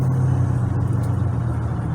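A 2021 Jeep Gladiator EcoDiesel pulls onto a four-lane highway while merging into traffic, its diesel engine giving off a steady, loud low rumble under light throttle from inside the cab.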